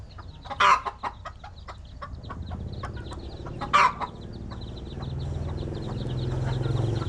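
Bantam chickens cluck in a pen, a flock of soft repeated clucks nearby with two louder squawks, over a low background rumble.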